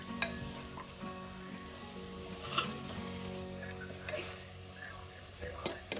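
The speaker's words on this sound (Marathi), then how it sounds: "तीन 4 मिनिट असं परतून घेऊ आपण चांगलं" Mutton coated in black spice masala sautés in about three spoonfuls of oil in a pressure cooker, giving a quiet, steady sizzle broken by occasional sharp clicks and scrapes of stirring.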